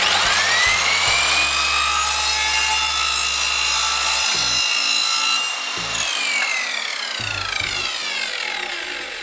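Hand sawing through a part for a flat-roof garden shed, with a steady back-and-forth rasp that holds strong for about nine seconds, near and loud, and no voices.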